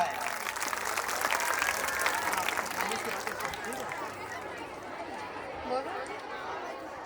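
An audience at a school annual function breaks into sustained applause, a broad crackling wash of many hands, heard from a distance and gradually easing off, with crowd chatter mixed in.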